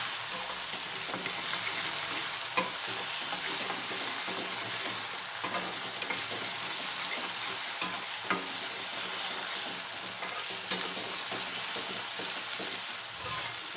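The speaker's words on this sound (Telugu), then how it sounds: "ఇది పచ్చివాసన పోయేదాకా వేయించాలి" Fresh ginger garlic paste frying in a pan for spicy chicken fry, a loud steady sizzle close by with occasional light clicks of stirring, no talk.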